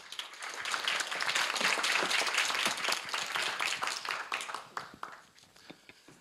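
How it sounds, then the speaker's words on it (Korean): An audience at a university demo-day event applauds to welcome a startup founder to the stage, with a moderate burst of many hands clapping that swells early, holds, then tapers into a few scattered claps. "박수로 맞이해 주시기 바랍니다"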